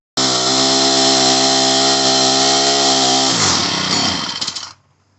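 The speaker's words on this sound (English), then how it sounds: "We're going to go ahead and run her full rev and let it smoke it all out." A Troy-Bilt TB525 EC string trimmer's small two-stroke engine screams at full throttle with a sustained high buzzing whine, then drops off and sputters to a stop near the end.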